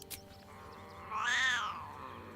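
A cat in the video game Baldur's Gate 3 gives a single drawn-out meow that swells and fades near its middle, clear and close against a quiet background.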